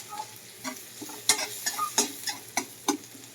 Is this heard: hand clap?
no